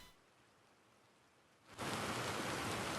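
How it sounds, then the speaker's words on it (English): A rain sound element in a song mix: quiet hiss at first, then an abrupt jump to loud, dense, steady rainfall noise that continues evenly to the end. "a raining sound, right?"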